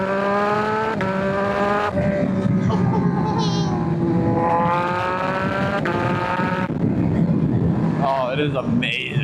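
A 2024 Yamaha XSR900 with a flashed ECU and an unbaffled Kelpi Shorty exhaust pulls hard in second gear, its loud rising engine note climbing steadily and shifting, with wind rush throughout.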